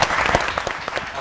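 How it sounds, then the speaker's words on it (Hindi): Audience applause at a weekend show, a short burst of many hands clapping steadily at close range, filling the whole moment without any talk. "तालियां।"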